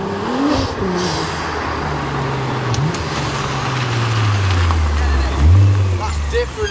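A Nissan GT-R engine accelerates hard in R mode, loud and close from inside the car, its pitch climbing, dropping at a gear change and rising again, with people talking over it.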